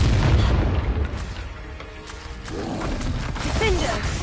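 A Confringo fire spell explodes in the Hogwarts Legacy video game, a loud boom at the start followed by rumbling, mechanical clatter and another surge later, with game voices mixed in.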